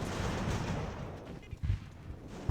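Cannon and artillery fire from a naval battle in the video game The Ultimate Admiral: Age of Sail, a steady low rumble of distant guns with a couple of sharper booms near the end.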